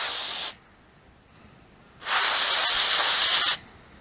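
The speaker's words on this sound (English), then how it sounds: "we'll give it a quick spray with this stuff." Two short hissing bursts from an aerosol spray can, close up, with a quiet pause between them, sprayed on an Oltcit car.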